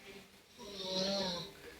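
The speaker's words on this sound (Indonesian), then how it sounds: "sudah ngorok." Young child snoring softly, a faint rasping breath swelling and fading in a quiet room, heard close but low in volume.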